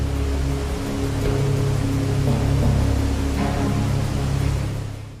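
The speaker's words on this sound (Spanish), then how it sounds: "se encuentra el sonido de una de las cascadas más ruidosas y espectaculares de los Alpes, las cataratas de Trummelbach" The Trummelbach falls in the Alps roar through rock caves as a dense, steady wash of rushing water that fills the space with a constant, powerful rumble.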